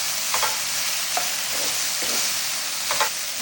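Garlic stirred in a hot pan, a steady bright sizzle with a few soft scraping strokes of the utensil, close up and with no voices.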